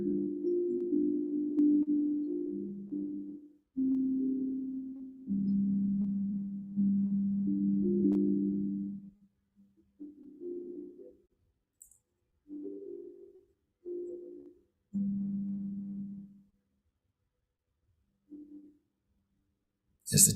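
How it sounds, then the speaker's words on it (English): Soft, drifting sine tones for meditation hum low and steady in sustained swells, separated by short pauses and quieter stretches, with no voice over them. "As the tones drift and we feel so peaceful"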